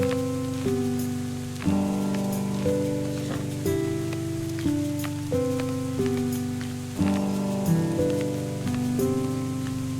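Steady, soft rain falls in a video game, a continuous hiss beneath gentle melodic background music with sustained notes. No voices are heard.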